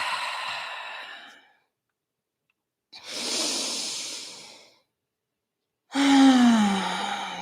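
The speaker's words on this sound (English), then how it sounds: "We're first going to start off by just taking deeper breaths. Full, complete inhales" Three slow, deep breaths alone in a quiet room: full, airy inhales and exhales separated by silences, the last one ending with a slight voiced sigh.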